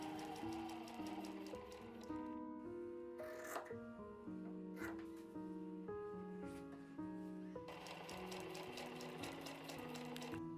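Sewing machine stitching fabric for a round bag, running steadily and close up with a fast, continuous mechanical patter, its needle rhythm fading slightly in the middle before picking up again.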